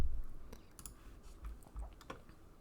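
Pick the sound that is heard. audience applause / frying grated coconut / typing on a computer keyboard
typing on a computer keyboard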